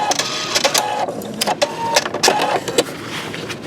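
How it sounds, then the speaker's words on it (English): Husqvarna Viking Designer Diamond sewing machine working its automatic thread cutter, a rapid run of close mechanical clicks and whirs that stops partway and then gives a few final clicks. "Now I'm going to hit the scissor button."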